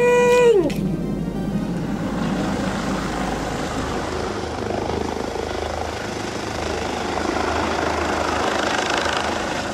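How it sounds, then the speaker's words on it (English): A helicopter's steady rotor and engine roar fills the air, loud and continuous, with a short whistling sweep at the start. "Helicopter landing!"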